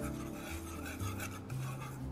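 Butter browning in a hot pan while being stirred, a steady dense sizzle and rasp with a low scraping undertone throughout, close and continuous, no voices.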